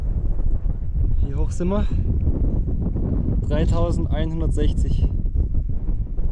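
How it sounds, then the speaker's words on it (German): Strong, cold wind roars steadily across the microphone on the Pamir Highway at about 3160 m altitude during a bicycle tour, with people talking over the constant rushing noise. "Der Wind bläst ganz schön, es ist ziemlich kalt jetzt langsam."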